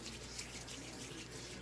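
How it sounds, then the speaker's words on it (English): Warm water runs steadily from a tap over hands at a basin during hand washing before leg waxing, giving a continuous close rushing stream with no talk. "under warm running water"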